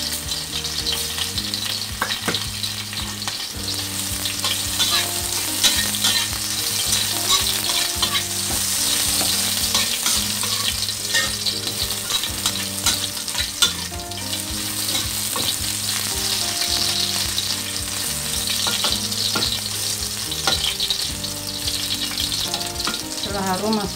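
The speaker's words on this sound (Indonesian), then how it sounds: "Minyaknya udah panas guys." Ginger and garlic sizzle and crackle steadily in hot oil, with stirring, over steady background music, with no talking.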